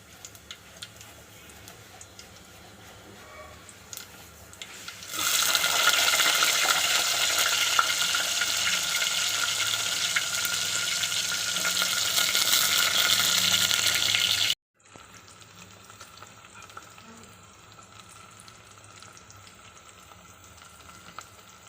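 Cumin seeds dropped into hot oil for a flat bean curry burst into a loud, steady sizzle that lasts about ten seconds and then cuts off abruptly, leaving quieter kitchen background.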